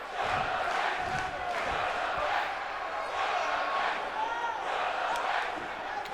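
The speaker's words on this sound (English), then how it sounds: "Crowd chanting, it sounds like welcome back to Nightmare." A large crowd chants "welcome back to Nightmare" rhythmically in loud, repeated swells, with a roar of voices filling the space continuously.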